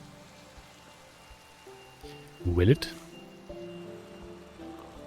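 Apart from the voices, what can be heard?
rain falling in Minecraft video game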